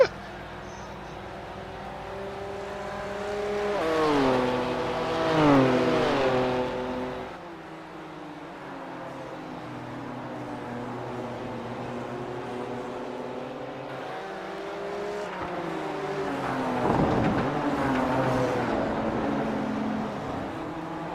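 An M2 race car in a sim-racing video game at Okayama circuit accelerates hard, its engine note climbing and dropping through gear changes, with a second surge of revving later on, loud and continuous.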